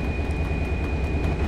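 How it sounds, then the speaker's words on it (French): A CC 72000 locomotive in Train Simulator 2018 drones steadily at raised engine revs while train heating runs, a constant loud low hum with a thin high whine, no talk. "on entend évidemment le régime moteur augmenté"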